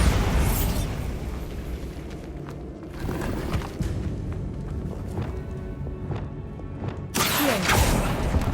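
Spell explosions in Hogwarts Legacy, a loud booming blast that trails into rumbling debris and scattered thuds, then a second heavy burst near the end.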